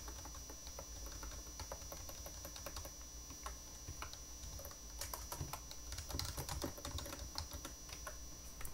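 Bank account data being entered into ERP software on a computer keyboard, with quick, uneven bursts of key clicks up close and steady low background noise, no voices.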